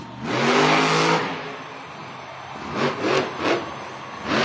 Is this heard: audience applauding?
no